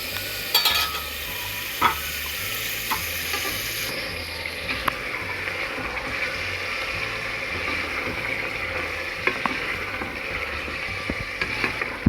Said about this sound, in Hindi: अब आलूओं को भूनते हुए 5-6 मिनट हो गए हैं